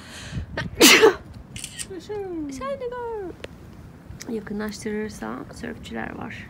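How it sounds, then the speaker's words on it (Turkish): A single loud, sharp sneeze bursts out near the microphone outdoors by the Pacific Ocean, followed by someone talking calmly. "Hapşırırken ekran gitmiş."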